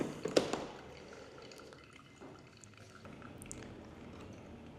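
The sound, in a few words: circular pour of water into V60 coffee dripper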